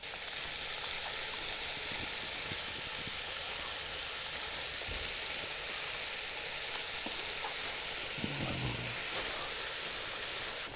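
Onions, leeks, fennel, celery and garlic sizzle in a pot as they cook down, giving a constant bright hiss with faint crackles and light stirring, steady and unbroken throughout.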